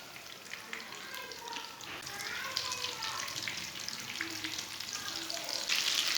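Aloo tikki potato patties fry in a pan with a steady close sizzle, with crackling pops building slightly louder toward the end.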